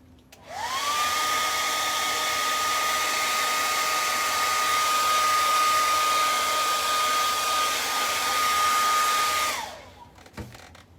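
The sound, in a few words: hair dryer drying chalk paint on a suitcase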